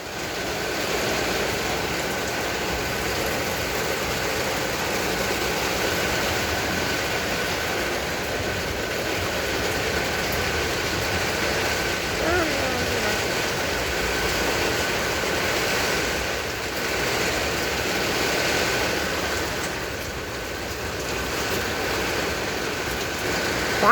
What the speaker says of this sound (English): Why is it raining so much?